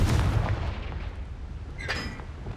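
Hogwarts Legacy's Confringo explosion spell bursts in a heavy boom at the start, then a second sharper blast with a bright crackling tail follows, loud and close.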